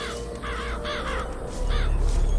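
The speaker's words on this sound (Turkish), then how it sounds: "Kargalar uçmaya devam ediyor." Crows cawing and flying in the video game BioShock Infinite, several harsh repeated caws in a loose rhythm over a low rumbling ambience, heard alone.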